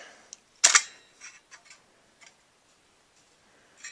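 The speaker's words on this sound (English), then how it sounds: "Actually, I'll pull the back off first." A sharp plastic crack and clatter as the back panel is pulled off an old PC, followed by a few lighter clicks and taps spaced out over several seconds, close and fairly quiet otherwise.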